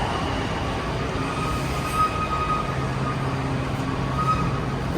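Washington DC Metro Red Line train running toward Glenmont, a steady low rumble of wheels and motor filling the car, continuous and fairly loud with no talk.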